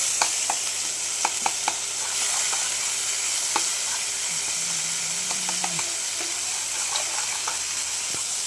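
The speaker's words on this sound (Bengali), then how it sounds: "আদা পেস্ট দিলাম। একটুখানি ভালো মতো কষিয়ে নিতে হবে।" Ginger paste frying in a pan for a Bengali rohu fish curry with cauliflower, with a steady sizzle, scattered clicks and taps of a spatula, and a brief low hum midway, no talking.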